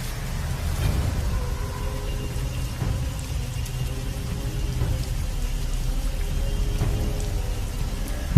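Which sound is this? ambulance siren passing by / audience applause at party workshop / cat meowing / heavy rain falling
heavy rain falling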